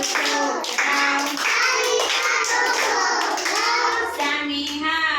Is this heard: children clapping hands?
yes